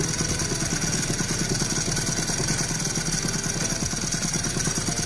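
A Honda NSR250R motorcycle fitted with an ETHOS chamber exhaust idles up close, its steady, loud pulsing beat running evenly throughout with no voices.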